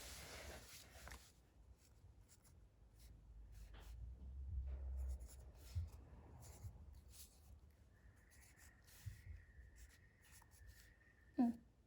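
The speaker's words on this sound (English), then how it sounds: "I'll write it first because then I'll probably forget it" A pen scratching on paper while telling time on a clock made of Kit Kat and Skittles, soft intermittent strokes in a quiet room with a brief louder knock at the end.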